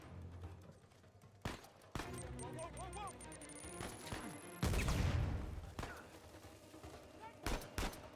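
Gunfire in the video game Uncharted 4: a dense exchange of shots, with sharp near bursts around the two-second mark and a heavy loud volley near the five-second mark, set over a continuous bed of combat noise.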